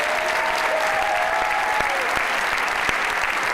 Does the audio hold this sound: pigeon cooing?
no